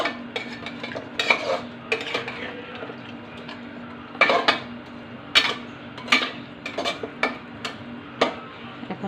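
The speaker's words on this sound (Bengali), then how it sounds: "এখন এটাকে আমি মশলার সাথে ভালো করে নেড়ে" Food with spices is stirred in a pan, a metal spoon scraping and clanking against the pan in irregular close knocks and rattles, with no voices.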